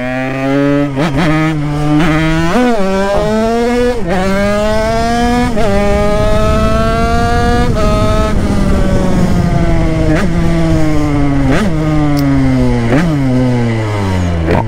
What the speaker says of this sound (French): En tout cas, elle sonne bien la bécane.